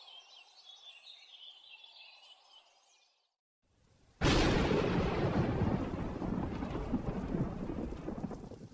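A rainy-season storm in a Bengali cartoon: faint ambience and bird calls fade to near silence, then a sudden loud thunderclap bursts in and gives way to heavy, steady rainfall.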